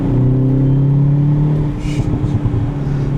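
A 2021 Hyundai Veloster N with a manual gearbox accelerates hard, its engine note rising steadily in a loud, continuous drone heard from inside the cabin, dipping briefly as if for a shift before pulling on.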